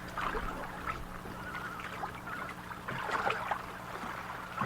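Soft water splashes and trickles as two paddles work a small boat, the strokes faint and close with gentle irregular dipping sounds over a quiet background.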